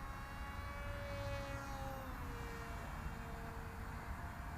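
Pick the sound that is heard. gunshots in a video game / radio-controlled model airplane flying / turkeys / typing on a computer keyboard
radio-controlled model airplane flying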